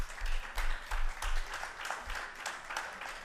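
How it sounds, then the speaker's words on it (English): A live studio audience applauds to welcome guest Corey Davis of Maven Leadership Collective on a tech talk show, a dense, steady patter of many hands clapping for about three seconds with no voices. "Let's give Corey a round of applause, everybody."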